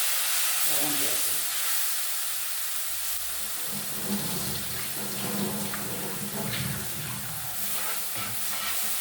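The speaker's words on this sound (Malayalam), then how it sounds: "വെള്ളം ചേർത്ത്" Water poured into a pan of Etta fish curry base with mustard seeds, fenugreek, chilli, coriander, pepper and turmeric, giving a steady splashing rush over a faint sizzle that continues throughout.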